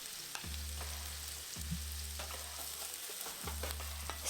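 Garlic frying with browned sausage in a pan, a steady close sizzle with repeated stirring scrapes and clinks at regular intervals.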